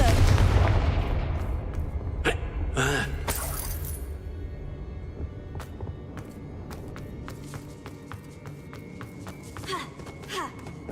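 A Confringo blasting spell in Hogwarts Legacy goes off as a loud booming explosion that rumbles and decays over a few seconds, followed by scattered debris clinks and light crackles in the game.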